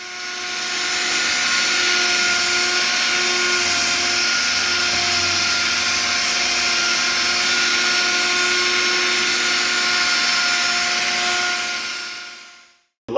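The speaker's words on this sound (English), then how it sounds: "I'm going to put some of this polish on this buffing pad, and we're just going to polish this light up." A power buffer with a buffing pad and polish works on a plastic car headlight, giving a steady, loud, whining hum that holds evenly for several seconds before spinning down and cutting off at the end.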